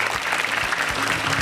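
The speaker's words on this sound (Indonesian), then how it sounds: "Oke tepuk tangan buat Kak Selin" Audience applause for a comedian at a Stand Up Comedy Indonesia show: a dense, steady wash of clapping from a crowd, sustained at even loudness for the whole stretch with no voices over it.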